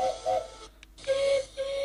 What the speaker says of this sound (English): And all the engines whistled, including the little engines and Thomas.